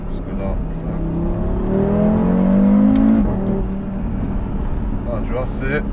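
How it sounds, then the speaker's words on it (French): An ABT-tuned Audi RS3 with 500 hp accelerates hard, its engine note climbing steadily in pitch over several seconds as a loud, sustained roar before easing off, with a voice heard alongside. "c'est une accel qui est beaucoup plus énervée que sur une RS3"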